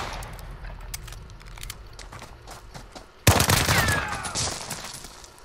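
Rapid automatic gunfire in Call of Duty Modern Warfare during a 2v2 Gunfight match: faint scattered shots at first, then a sudden loud, close burst of sustained firing that trails off.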